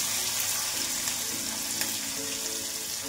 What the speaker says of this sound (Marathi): मिरची पण आपल्याला छान परतून घ्यायची।